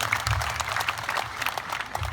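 Congregation at a Pentecost vigil clapping together, a steady dense wash of applause from many hands in a large indoor space, even and sustained throughout without a break.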